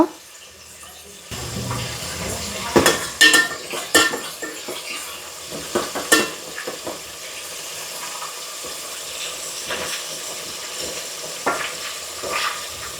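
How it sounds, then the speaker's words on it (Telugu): Fenugreek seeds sizzle steadily in oil in a pan for fish curry while a spoon scrapes and clinks against the metal now and then, close by. "మెంతులు కొంచెం సైడ్కి ఆయిల్లోనే వేగాలన్నమాట"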